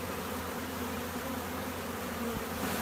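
Dense, steady buzzing of many honeybees around a large apiary of beehives, a continuous close hum with no pauses or talk.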